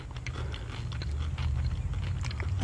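Gum from an MRE ration is chewed close to the mic, giving soft, steady, moist mastication sounds over a low background hum.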